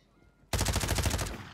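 Shotgun fire in Call of Duty Warzone on Rebirth Island: after a quiet moment, a sudden loud volley of rapid, closely spaced blasts rings out for about a second, dense and booming.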